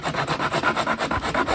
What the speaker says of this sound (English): I can use the Corsper rasp